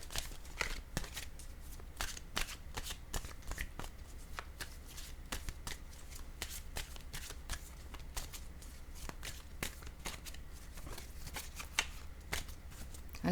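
Tarot cards are shuffled by hand in a quiet room, a long run of soft rapid riffling taps and flicks repeating in an uneven rhythm, close and fairly quiet.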